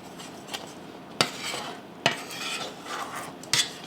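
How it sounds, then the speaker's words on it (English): A utensil stirs a thick no-bake cookie mixture in a pot, making steady scraping with three sharp metallic knocks against the pan, close up with no voices. "Stir that in really good"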